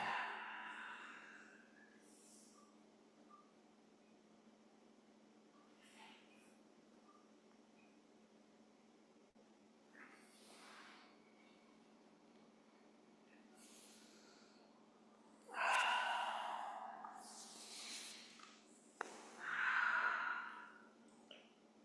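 A few breathy exhales through the nose and mouth during a guided exercise, one soft early and two louder ones near the end, close and otherwise quiet.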